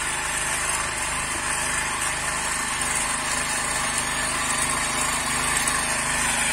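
A Kaan 26S motor hoe tiller runs steadily close up, its small petrol engine buzzing and droning at an even pitch throughout, with no voices.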